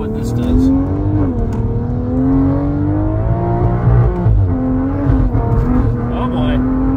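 A turbo-upgraded car engine with a burble tune revs steadily, its loud droning note rising and falling through repeated throttle swells, with a voice speaking over it.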